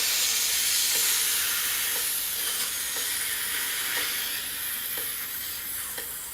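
A long, steady hissing exhale pushed against hand resistance at the mouth during a French horn breathing warmup, a bright airy sizzle sustained for several seconds and slowly easing off.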